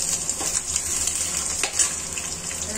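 Garlic and ginger hit hot oil in a pan already holding cloves, black pepper and cumin while malai kofta is being cooked at home, giving a steady, close crackling sizzle throughout with no talking.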